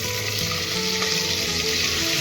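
Oil and Amul butter heating in a pan for pav bhaji, a steady, dense, close sizzle with a faint crackle running evenly throughout, no talk.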